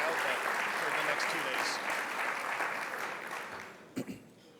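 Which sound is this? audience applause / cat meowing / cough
audience applause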